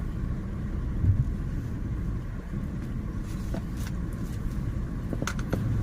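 Steady low rumble of a car driving along a road, continuous engine and tyre noise with occasional light rattles, no voices.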